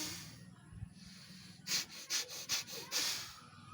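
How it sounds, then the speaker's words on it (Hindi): A person clears the nose with forceful breathing: after a quiet start, about five sharp, rapid nasal blasts come close and loud in a quick rhythm, ending in a longer hissing exhale. "ये है दुनिया का बेस्ट नाक साफ करने का तरीका"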